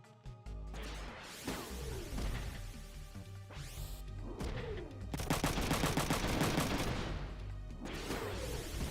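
Rapid gunfire and crashing impacts from the mech battle game Front Mission 3, with bursts of shots, metallic smashes and whooshes layered over game music at a steady, loud level.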